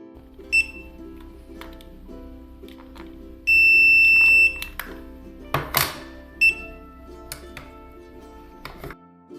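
A remote relay receiver in programming mode gives a few short electronic beeps, then one sustained tone lasting about a second, with quiet clicks and handling noises between.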